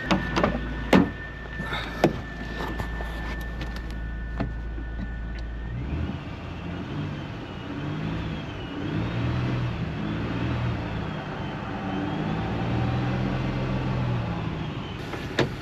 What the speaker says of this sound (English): All right, I'll rev it up and then you go, okay?